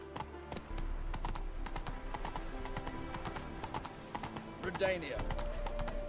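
The horse Roach from The Witcher 3 trots in rapid clip-clopping hoofbeats with a whinny near the end, under a man's speech and background game ambience.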